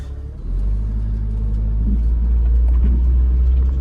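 A Nissan Pao small car accelerates at full throttle, its engine a loud, steady rumbling drone heard from inside the cabin that builds and holds for several seconds.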